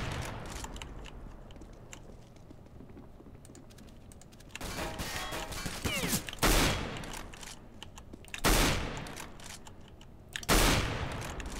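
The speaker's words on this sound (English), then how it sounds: "Finally, jeez, I hate the SSG." Three loud, sharp SSG sniper rifle shots ring out in Counter-Strike: Global Offensive during a competitive match, spaced about two seconds apart over a background of light keyboard clatter.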